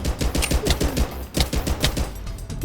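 An overpowered gun in Minecraft's One Block mode fires in rapid, continuous volleys, a dense and loud stream of shots repeating without pause and with no voices over it.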